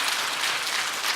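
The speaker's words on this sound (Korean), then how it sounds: "다 같이 박수 한번 해주시고," A church congregation claps on Easter Sunday, a brief burst of dense, steady applause.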